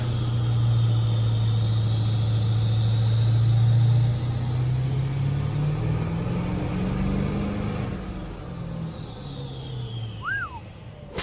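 Ford OBS 7.3 Powerstroke diesel engine running on a dyno, loud and close, a low droning tone that holds for about four seconds before the note slides and rises, then fades as the run winds down.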